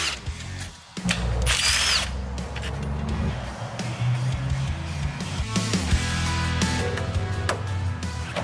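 A power drill or cutter bores a hole in the body of a Toyota Hilux N70 to fit an intercooler kit, running loud and close with a whining drone that shifts in pitch and briefly stops near the start.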